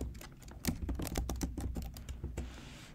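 A computer keyboard being typed on at a steady pace, a run of close, crisp key clicks entering a Cargo command for a Rust project, with no talking.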